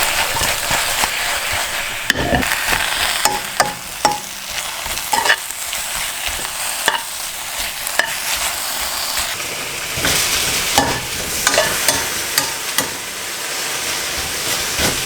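Oyster mushrooms and pak choi fry with salt in a hot pan, giving a steady sizzle and hiss with scattered stirring clatters, close and fairly loud throughout.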